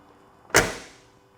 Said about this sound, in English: As you can see, the door closes well, nice and tight.